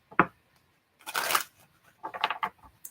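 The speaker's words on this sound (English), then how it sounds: "Last shuffle." Tarot cards being shuffled, heard as three short papery riffling bursts separated by brief silences, close and moderately loud with no talking.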